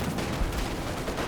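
Machine gun fire rattles in a Company of Heroes 2 two-versus-two battle, a dense, continuous din of shots and explosions with no pauses across the short stretch.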